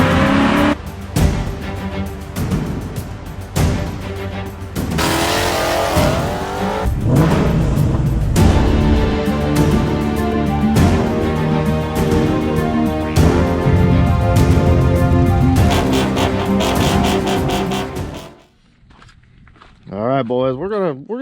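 Rebuilt Ford F150 truck, built up from a bare frame, running and driving on its first outing, its engine droning loudly and steadily under talk, with a brief drop and quieter stretch near the end.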